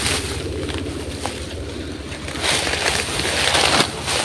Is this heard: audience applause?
no